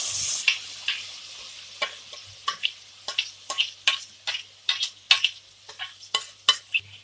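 Hot oil sizzles steadily in a kadai as tempering and then puree go in for veg biryani, while a spoon clinks and scrapes against the metal in quick, irregular taps.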